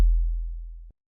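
A single 808 kick drum sample with a quick click attack and a long, smooth sub-bass tone that holds for nearly a second before cutting off, heard alone.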